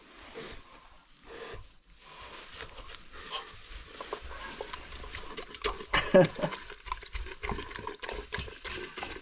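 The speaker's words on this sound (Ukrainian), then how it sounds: "зараз погодую свинку. Вона дуже любить кашу." A pig eats porridge from a feeder on a small homestead, making close, wet slurping and snuffling sounds that grow louder and more irregular.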